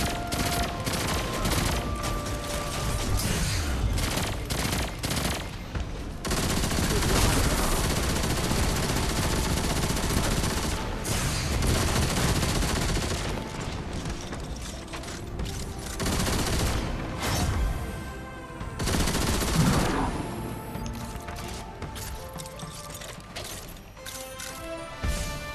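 Rapid gunfire from the video game Destiny 2: sustained bursts of automatic shots and fusillades with crashes and booms, loud and continuous for the whole stretch, with no talking over it.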